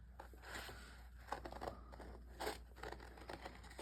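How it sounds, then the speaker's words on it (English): Quiet snips and crisp paper rustles as fabric scissors trim along the edge of a Halloween tag card, a few sharper cuts standing out over a low hum. "We're gonna trim right along the edge of our cute little Halloween tag card."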